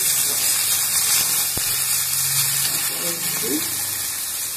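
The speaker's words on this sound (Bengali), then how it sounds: "টমেটো, কাঁচা লঙ্কা, পেঁয়াজ তেলের মধ্যে দিয়ে দিলাম।" Tomatoes, green chilies and onion in hot oil, a steady loud sizzle and hiss with a few faint clinks under it.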